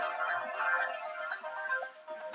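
A Porsche Design BlackBerry phone plays its ringtone, a bright repeating electronic melody in short pulsing bursts, loud and alone.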